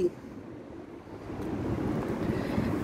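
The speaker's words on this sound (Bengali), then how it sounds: "ছায়ার মধ্যে থেকে যে বাতাসটা হচ্ছে সেটা একেবারে মন প্রাণ শীতল করে দিচ্ছে" An outdoor breeze in the shade makes a steady, low, rumbling wind noise across the microphone, growing slightly stronger partway through.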